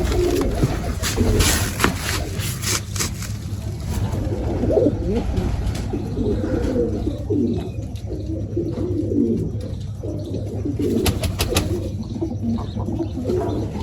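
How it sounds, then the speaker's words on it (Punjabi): Pigeons come to peck at scattered feed and coo steadily, close by, in a continuous overlapping murmur of soft low calls, joined by occasional flutters and light chirps. "ਲਓ ਜੀ ਆ ਗਏ ਚੁਗਣ ਕਬੂਤਰ ਵੀ"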